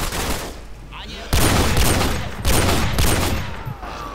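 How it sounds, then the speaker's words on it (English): Rapid gunfire in the Call of Duty Modern Warfare 2 spec ops Estate mission, with loud close bursts of automatic fire repeating across the clip under dense game noise. "Now I'm gonna shoot him."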